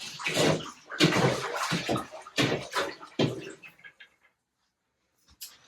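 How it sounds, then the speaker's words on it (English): A laundry strip mixture with dōTERRA essential oils is stirred through bathtub water, making close sloshing and swishing for about four seconds, then near silence before a brief splash at the end. "I like to stir it up, just mix everything before I start throwing the laundry in."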